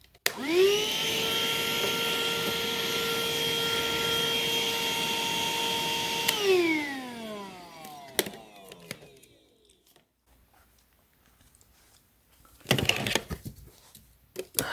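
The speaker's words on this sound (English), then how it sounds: "So I'll try to vacuum some of this potty thing from balloon" A Black + Decker Flex lithium-ion handheld car vacuum whirs steadily for several seconds, then winds down with a falling whine, followed by quiet and a few brief clattering handling noises.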